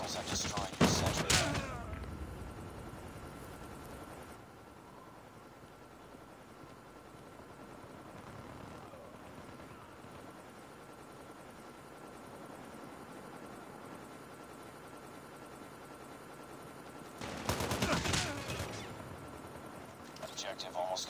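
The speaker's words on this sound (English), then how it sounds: "Hostile stealth chopper inbound." Helicopter and gunfire in the Call of Duty Mobile game: a steady rotor drone runs through the whole stretch, with loud bursts of shots at the start and again near the end.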